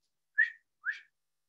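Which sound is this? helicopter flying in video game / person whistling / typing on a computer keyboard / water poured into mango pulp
person whistling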